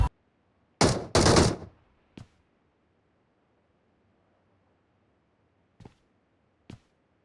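Gunfire in the mobile game PUBG Mobile: a short loud burst of rapid shots early on, then a few isolated single cracks spaced out over otherwise quiet background.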